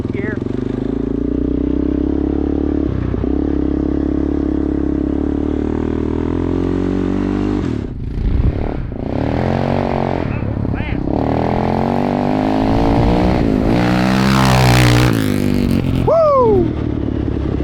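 A Yamaha Warrior 350 ATV engine with the muffler plug removed runs loud and close, revving up through the gears with rising whine and a shift near the end, while people talk over it.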